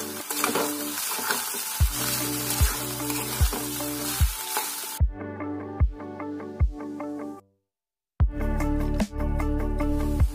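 Cooked rice and salt being mixed in a frying pan for gongura pulihora: a close sizzle with regular spatula scraping strokes, a brief silent gap, then more sizzling stirs.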